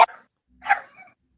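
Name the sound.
dog barking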